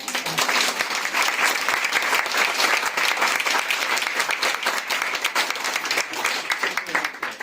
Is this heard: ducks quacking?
no